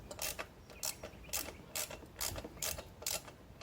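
Ratchet tightening the fender bolts on an Ice Bear Champion, giving a steady series of short ratcheting clicks about every half second, close and moderately loud over a low background hum.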